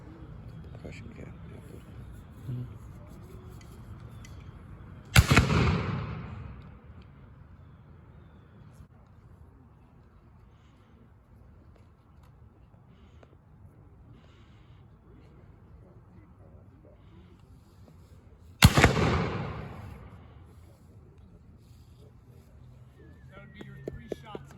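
Two loud Civil War weapon shots at an outdoor living-history demonstration, about thirteen seconds apart, each a sharp blast with a long rolling echo, over quiet background murmur and wind.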